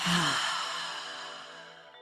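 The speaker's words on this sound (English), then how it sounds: "Big intentional breath in through the nose, filling up the belly. Exhale out through the mouth." A deep, breathy exhale pushed out through the mouth during a relaxation breathing exercise, loud and close at the start then slowly fading over about two seconds.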